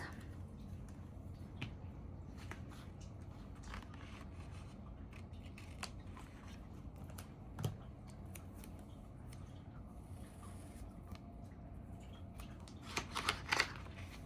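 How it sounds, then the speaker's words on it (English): Soft snipping of scissors cutting washi tape near the end, a few quick close cuts over faint rustling and background hiss. "And then I will cut with some scissors."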